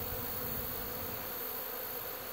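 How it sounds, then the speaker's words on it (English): Many honeybees buzz around a mat near a hive, making a steady, dense hum that holds at an even level throughout, with no voices. "there must be 300 bees on the mat"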